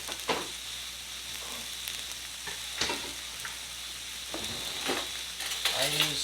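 Food browning in a frying pan while it is stirred, a steady close sizzle broken by repeated scraping and clattering strokes of a utensil, moderately loud, with no talking.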